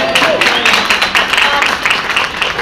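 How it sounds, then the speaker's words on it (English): Seminar audience applauding steadily throughout, a dense even patter of many hands with faint crowd murmur, fairly close and sustained. "Give him a big round of applause."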